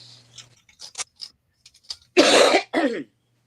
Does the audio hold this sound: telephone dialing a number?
no